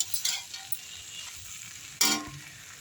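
A kudaimilagai (capsicum) rice dish is stirred in a pan. Two short scraping bursts come about two seconds apart, over a quiet, steady sizzle.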